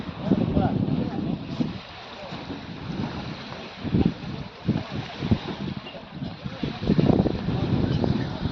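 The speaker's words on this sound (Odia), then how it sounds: "ଏଇଟା ଏଇ ବୋଟର ଫ୍ୟାନ" A boat's engine and propeller run with a steady, loud churning drone under wind noise, while someone talks over it throughout.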